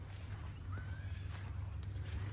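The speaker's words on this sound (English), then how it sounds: "Look at these beautiful horses here." Horses at a wilderness campground snort and clip-clop at moderate distance, with a short rising whinny partway through over a constant low background rumble.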